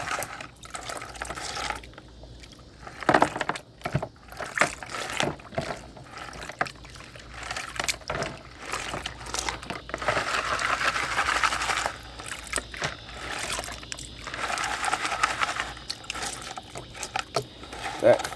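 Muddy gold paydirt with shale being rinsed in water, with intermittent sloshing and splashing close by and someone talking over the water sounds.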